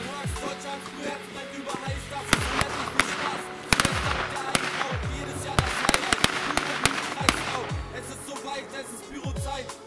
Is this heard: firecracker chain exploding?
yes